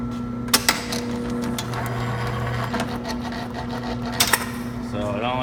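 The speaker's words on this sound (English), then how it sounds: "go ahead and turn on our machine and run through a cycle" A crowler can seamer running a seaming cycle, with a steady mechanical hum and whir broken by a few sharp clacks near the start and end, and a person talking over it.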